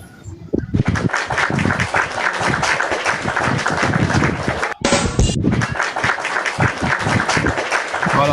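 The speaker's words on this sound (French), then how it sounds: "Bravo, on va applaudir." A crowd at a RHDP party supporters' gathering breaks into loud, sustained applause that fills the whole stretch, with a brief dip near the end before the clapping surges again.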